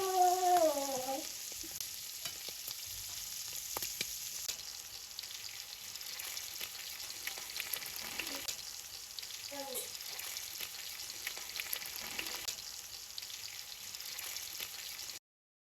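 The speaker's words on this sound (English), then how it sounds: "Fry the seasoned shrimps until golden." Seasoned shrimp frying in a pan produce a soft continuous sizzle with faint crackles throughout, quiet and steady with a few brief tonal squeaks near the start.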